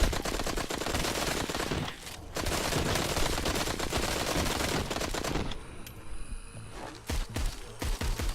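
Gunfire in the VR zombie game Arizona Sunshine, horde mode: rapid volleys of shots crackle almost continuously with short pauses, fairly quiet overall.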